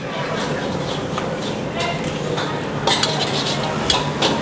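A metal spatula scrapes and clatters in a pan as nasi goreng with vegetables, fish balls and shredded chicken is stirred and fried at a busy street food stall, with a soft sizzle and occasional sharp clinks.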